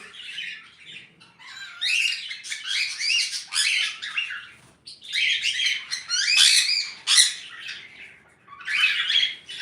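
Sun conures and cockatiels at a bird farm in Bangladesh squawk and chirp in a dense, shrill chorus, with loud overlapping calls rising and falling in waves and almost no pauses.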